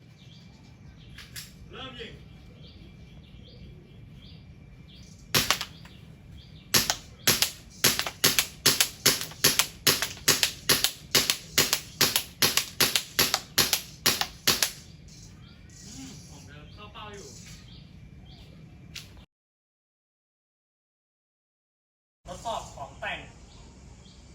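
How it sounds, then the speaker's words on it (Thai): A Glock 17 Gen5 pistol fires at an outdoor range over 25 metres, delivering a rapid string of about twenty sharp, evenly spaced shots, loud and close, followed by a brief pause and a few quieter sounds. "ทดสอบยิง ระยะ25เมตร"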